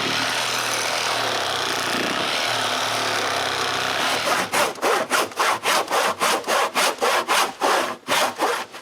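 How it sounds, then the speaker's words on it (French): A hand saw cuts firewood for a new woodshed at a cottage. After a few seconds of steady background, it settles into a close, loud, even rhythm of about a dozen quick back-and-forth strokes through the wood, with no talking. "Je vais faire la majeure partie de la coupe à main."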